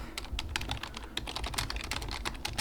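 Rapid, continuous clatter of keys on a computer keyboard, typed fast and close up in an ASMR setting, with dense overlapping clicks and no speech.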